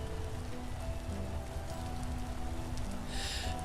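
Steady rain falls in the block-building survival video game Vintage Story, a dense, even patter of raindrops hissing continuously for several seconds with no talking.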